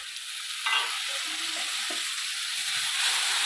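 Spices fried with coriander, cumin, chilli, turmeric and Kashmiri chilli are poured into a pan for Bengali-style cabbage dhokla. A sudden burst of loud sizzling follows and hisses on steadily, with small scraping clinks underneath.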